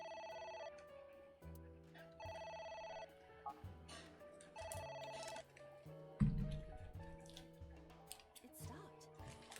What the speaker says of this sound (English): Like a phone ringing noise just happening,